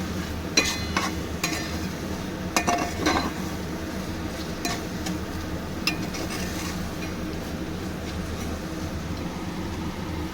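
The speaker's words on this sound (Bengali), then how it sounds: "এবারে আমি মাটনটা এর মধ্যে দিয়ে কষতে থাকবো।" Mutton stir-fried in hot oil in a pan, with a steady low sizzle throughout and scattered sharp clinks and scrapes from a metal utensil stirring, close up and without talking.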